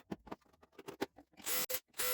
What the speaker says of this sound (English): I did, however, move back over to the pocket hole jig to fasten the table legs into place.